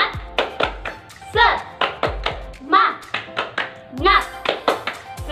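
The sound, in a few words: rhythmic hand clapping, tepuk semangat cheer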